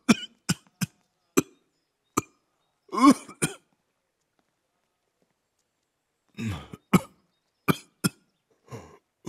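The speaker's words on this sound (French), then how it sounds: "Cette vilaine toux ne date pas d'hier, pas vrai?" Persistent harsh coughing, close and dry, in repeated bursts of single and double coughs with a few throat-clearing fits, separated by a long silent pause in the middle.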